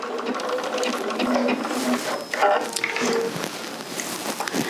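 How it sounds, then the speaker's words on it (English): A sewing machine runs a second row of top stitching for a denim-style finish, giving a steady close whirring and rattling hum with slight changes in pace. "So let's just do the second row of stitching."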